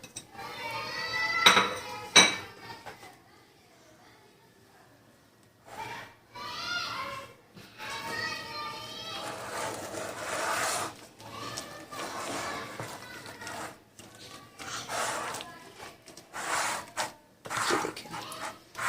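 Chicken is stirred for a club sandwich filling, a spoon clinking and scraping against a bowl in short bursts, loudest near the start, with a voice talking at times over the mixing.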